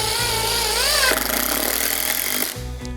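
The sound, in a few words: SKIL 12 volt impact driver driving a fastener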